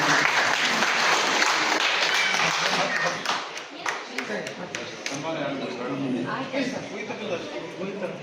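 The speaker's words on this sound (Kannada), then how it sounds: "ಒಂದ್ಸಲ ಎಲ್ಲರೂ ಜೋರಾಗಿ ಚಪ್ಪಾಳೆ ಕೊಡ್ತಾರೆ." A large audience at a Karnataka Rakshana Vedike event breaks into loud, sustained applause, dense at first and thinning slightly as it continues, with voices underneath.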